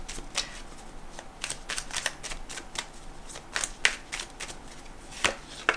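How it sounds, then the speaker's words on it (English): Tarot cards being shuffled by hand, a run of crisp riffling and slapping bursts repeating irregularly and close up, with no talking over them. "So I just want to draw you one more card"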